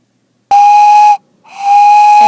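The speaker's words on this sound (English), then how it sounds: "Spencer whistled," A toy steam engine whistle from a wooden railway set blows two loud, shrill blasts, the first short and the second longer, separated by a brief pause. No voices are heard.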